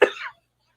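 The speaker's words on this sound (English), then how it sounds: "Sorry for this coughing" A single short, sharp cough, close and fairly loud, followed by silence.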